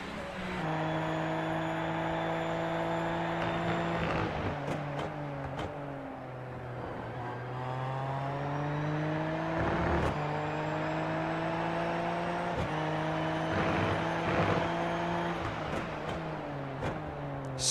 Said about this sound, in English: Ofer really charging his bright yellow Super Formula light